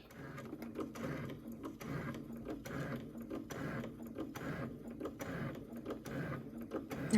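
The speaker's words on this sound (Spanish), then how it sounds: "cosiendo el lado opuesto a 1/3 de pulgada" A sewing machine stitching through thick layers of fabric for a cosmetic bag, running in a quick, steady mechanical chatter at moderate distance with brief pauses, no voice over it.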